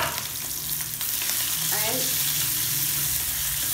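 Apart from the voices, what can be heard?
chopped onions frying in hot oil with mustard and cumin seeds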